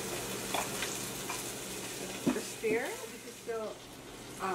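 Sweet potatoes sizzle in a hot pan with a steady frying hiss and occasional stirring scrapes, while a voice murmurs briefly in the background.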